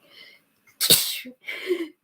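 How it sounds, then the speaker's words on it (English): A single sharp allergy sneeze bursts out, preceded by a short inhale and followed by a softer trailing breath or sniff, close and loud. "I'm going to sneeze"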